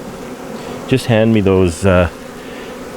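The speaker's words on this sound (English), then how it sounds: "You want me to steal some shakes of bees?" Honeybees hum steadily at an open beehive during spring hive splits, a continuous buzz beneath a man's short spoken phrase.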